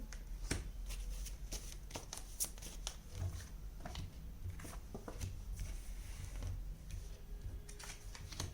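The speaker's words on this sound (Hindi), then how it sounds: "करंट फीलिंग्स के लिए हम कुछ और कार्ड्स भी निकालते हैं।" Tarot cards are shuffled and drawn by hand in a quiet close setting, with soft flicking, snapping and sliding card sounds scattered irregularly over a low background hum.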